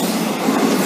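Loud, continuous rumble and rattle of a train rolling past close by at Hawksburn station in Melbourne, with a steady roar of wheels on rails.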